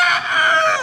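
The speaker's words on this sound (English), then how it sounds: "the reason we have so many Rhode Island red roosters" A Rhode Island Red rooster crows once, close and loud, a brief strained call lasting under a second.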